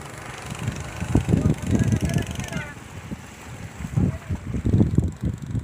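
A whirlwind tornado sweeps over the Gajah Mungkur reservoir in Wonogiri, its gusts roaring and buffeting the microphone in loud, surging waves while people shout and talk nearby.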